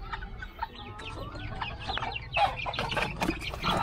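Backyard labuyo jungle fowl cluck in a busy, overlapping flock, with repeated close calls that grow louder and denser toward the end.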